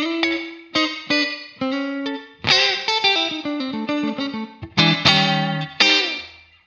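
Clean electric guitar chords and single notes run through an IK Multimedia X-Space reverb pedal on a slapback setting, each attack followed by a short, bright ping of repeat; played alone, moderately loud, with no talking.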